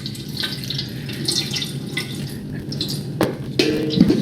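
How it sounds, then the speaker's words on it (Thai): Clean drinking or tap water poured over newly planted seedlings in a tray, heard as a close, continuous trickle and splash with a couple of sharper knocks near the end, no talking. "รดน้ำครับ ใช้เป็นน้ำสะอาดครับน้ำดื่มหรือว่าน้ำก๊อกก็ได้นะครับ ราดลงไปให้ทั่วเลย"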